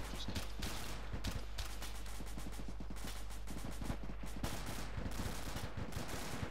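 Rapid bursts of video game weapon fire in a military shooter, dense repeated shots crackling over a constant low engine-like drone, loud and close throughout.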